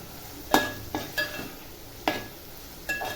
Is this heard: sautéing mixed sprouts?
yes